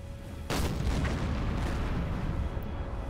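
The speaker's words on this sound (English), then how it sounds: "Swing the deck gun over." A submarine deck gun fires once in the Silent Hunter 4 naval game, a sharp, loud boom followed by a long, rumbling wash of noise that fades slowly.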